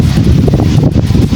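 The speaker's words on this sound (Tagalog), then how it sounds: "Lakas ng hangin." Strong wind buffets the microphone, a loud, continuous low roar with gusty fluctuations throughout.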